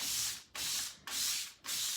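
Rhythmic hand sanding of an antique secretary desk, four long scratchy back-and-forth strokes in steady succession, close and clear with no talking.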